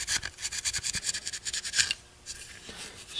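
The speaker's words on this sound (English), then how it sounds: "Scuffing it up like this is a necessary step if you want to have good paint bonding." Plastic GoPro housing being scuffed before painting, a quick run of close, rhythmic scratchy rubbing strokes, fairly quiet, with a short pause near the end before a softer stroke resumes.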